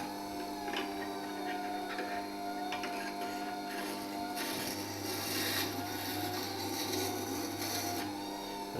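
A carving V tool is ground against the stone of a Record Power WG250B wet grinder with a short tool jig, giving a steady low motor hum beneath a gritty rubbing scrape that grows rougher midway.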